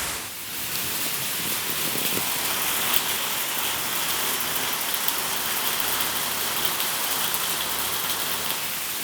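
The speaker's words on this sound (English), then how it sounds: "what it sounds like when it rains in here with the tin roof" Rain drums on a tin roof overhead, a steady, full hiss of many drops filling the space evenly throughout, with no one speaking.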